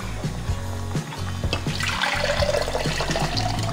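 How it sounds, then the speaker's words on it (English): Water is poured into a pan of puy lentils, a loud splashing gush that swells and sloshes continuously, with brief dips before building again. "I might add a little bit more water to that actually."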